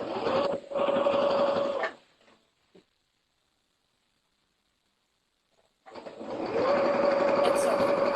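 A sewing machine stitches along the edge of a fabric beach bag, running loud and close in a steady whir, stopping for a few seconds of near silence, then starting up again.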